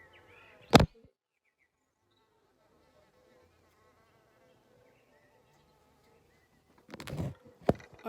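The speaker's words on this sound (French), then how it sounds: "C'est une abeille qui vous a fait tomber." Bee flying close by outdoors, a brief near buzz with a sharp knock early on, then a quiet stretch and another short burst of buzzing near the end.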